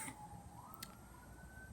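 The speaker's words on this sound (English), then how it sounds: "I don't know if you can hear that siren in the background" A faint siren wails in the distance, its tone slowly rising, under a low steady background rumble.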